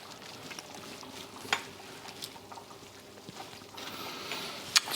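Prawn bisque simmering in a pot, a soft, steady low bubbling with occasional small pops and a faint clink near the end, quiet and close with no voices.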